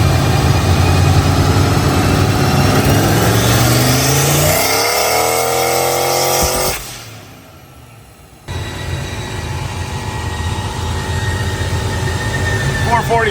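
A turbocharged Ford engine with GT40P heads and factory production parts runs loud and close, a rough idle with revs that swell and fall, then a brief drop in level before the running sound resumes.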